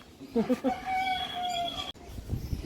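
A hen clucks in a few quick close bursts, followed by a long rising call, at a pigeon race gathering, with people talking nearby.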